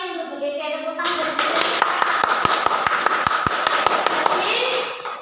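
Clapping in a school dissemination session on positive culture, with a run of sharp, evenly spaced claps following a voice, then a thinner spread of hand claps mixed with chatter.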